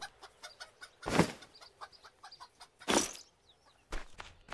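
Chickens in the farming video game Farmer's Life cluck in a string of short, close calls, with several louder bursts standing out over a steady background.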